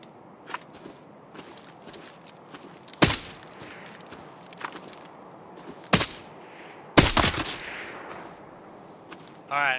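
Sharp gunshots in the video game Arena Breakout Infinite, a few spaced single cracks and a short close burst among soft footsteps and quiet rustling, ending abruptly.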